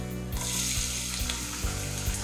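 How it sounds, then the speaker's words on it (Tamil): Cinnamon, cardamom and cloves fry in hot oil with a dense, even sizzle, close by. A few low thumps and scrapes from stirring come through. "இதில் வந்து பட்டை, ஏலக்காய், லவங்கம் எல்லாம் போட்டிருக்கேன். இதை லைட்டாக ஃப்ரை பண்ணி"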